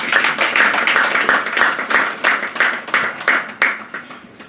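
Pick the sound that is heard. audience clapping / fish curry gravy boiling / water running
audience clapping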